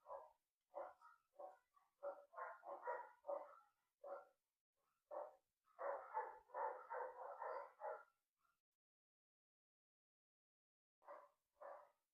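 Dogs bark indoors in repeated short bursts, with a dense cluster in the middle, a long gap, and two final barks near the end. The barks are moderately loud and clear, and nobody speaks over them.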